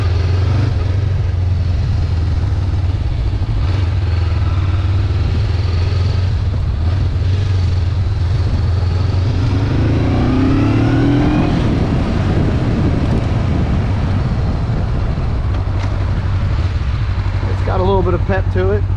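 New 2021 Honda CBR500R on the move, a steady low parallel-twin engine drone with rising revs during acceleration under strong wind rush, a short voice near the end.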